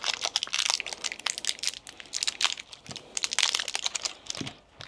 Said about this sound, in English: Let's crack open these AA's.